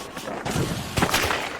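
Sniper rifle fire in the online shooter The Finals: a few sharp, loud shots crack out at irregular intervals over game background noise, with one especially strong report near the middle.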